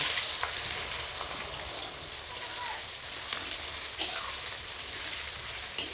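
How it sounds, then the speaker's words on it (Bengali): Onions frying in a wok, a steady low crackling sizzle with a few faint clicks of utensils against the pan, fairly quiet and continuous throughout. "পেঁয়াজটা হয়ে গেছে ভাজা"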